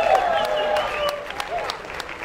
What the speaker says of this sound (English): Let's give a round of applause to the beautiful family that made this possible today.